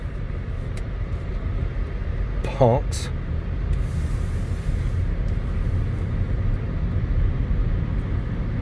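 A 2012 Ford Fusion SE V6 with a six-speed manual gearbox on a test drive gives a steady, low cabin drone of engine and road noise beneath someone talking.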